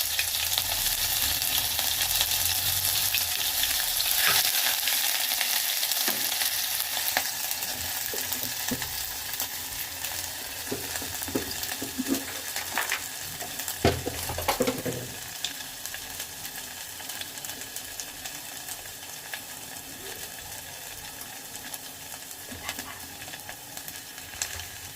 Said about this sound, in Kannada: ಒಂದು ಸ್ವಲ್ಪ ಜೀರಿಗೆ, ಪಲಾವ್ ಎಲೆ, ಚಕ್ಕೆ ಹಾಕ್ತಾ ಇದ್ದೀನಿ.